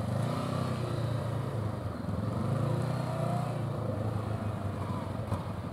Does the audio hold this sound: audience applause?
no